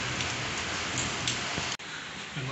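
Rain falling in Siwan, Bihar, a dense, steady hiss of drops on surfaces that is close and constant, with a brief dropout near the end and no talking.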